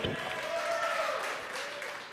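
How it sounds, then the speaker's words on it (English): A late-night launch team in the Hawthorne control room cheers and applauds at spacecraft separation of the HISPASAT 30W-6 satellite, a burst of clapping and whoops that stays fairly loud throughout. "And the cheering from the late night team here in Hawthorne."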